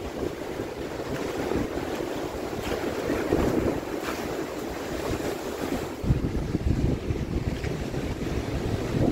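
Rough storm waves churn along the Lake Erie shore at Fort Erie during a storm and seiche, a steady loud wash of surf blended with heavy wind buffeting the microphone, with no voices.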